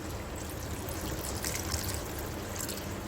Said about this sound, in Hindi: अब मैं इसमें डालूँगी, देखें, पानी। ये गर्म पानी है